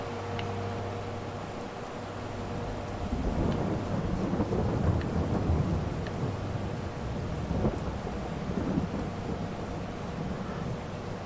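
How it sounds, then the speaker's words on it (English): Rain and rumbling thunder in the farming game Farming Simulator 22 on the Elmcreek map: a steady hiss of rainfall with deep rolling thunder swelling in the middle, with no talk over it. "It's starting to rain."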